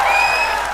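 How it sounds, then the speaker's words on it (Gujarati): Applause from an audience at a dance show in Gujarat, a brief steady wash of clapping heard close and fairly loud, with no voices over it. "તાળીઓ થઈ જાય"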